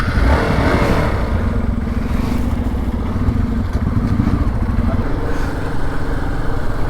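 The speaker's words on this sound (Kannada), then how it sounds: "ಇವಾಗ ಆಫ್ ರೋಡಿಂಗ್ ಎಕ್ಸ್ಪಲ್ಸ್ ಜೊತೆ ಟ್ರೈ ಮಾಡೋಣ ಗುರು" Hero Xpulse motorcycle ridden off-road, its engine droning loudly and steadily up close with a rough, rattling rumble and wind buffeting throughout.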